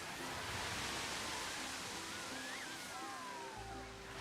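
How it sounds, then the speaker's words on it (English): A waterfall in Planet Coaster 2, a theme park building game, makes a steady, dense rush of falling water. It is loud and unbroken throughout, with faint tonal game sounds drifting through it. "create a waterfall."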